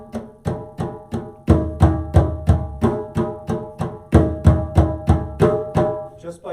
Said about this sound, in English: Just by tilting it forward, just by opening that little space on the bottom, that allows the sound to come out.